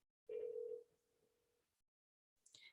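A steady single tone rings out from an ESI ePhone8 desk phone while a number is dialed, sustained for over a second and then trailing off, followed by a brief faint burst near the end.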